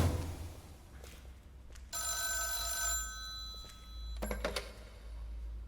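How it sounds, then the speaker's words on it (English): A telephone rings in the video game Deep Sleep: Labyrinth of the Forgotten. A bright electronic bell trill sounds for about a second, then a second short burst follows over a low, steady drone. "Another phone call."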